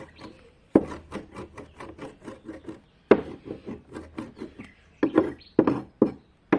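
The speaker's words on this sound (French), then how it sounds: "vous prenez une demi-lune si vous avez, et vous commencez à le hacher" Nettles being chopped with a mezzaluna on a wooden cutting board: close, rhythmic rocking thuds in quick runs, pausing briefly, with no voices.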